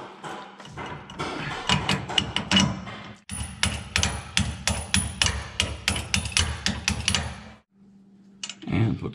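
Metal clinks and ratcheting taps while a stop nut is tightened onto the bracket of a Roadmaster rear sway bar on an RV, a quick run of close, sharp clicks, a brief pause, then more rapid taps.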